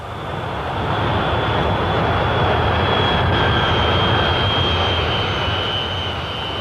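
An airplane passes overhead as a steady, broad jet roar that swells, holds loud for several seconds and eases slightly, with a faint high whine running through it.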